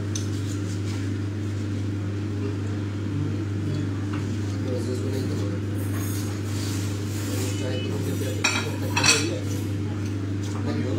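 A plate and cutlery clink and rattle now and then beneath steady chatter and a constant low mechanical hum, with a brief cluster of louder clatter near the end.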